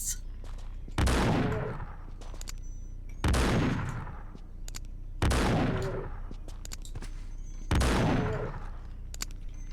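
Four heavy, booming shotgun blasts come at steady intervals of about two seconds in a Tomb Raider custom level, each with a loud attack and a long rumbling decay, with faint clicks between shots.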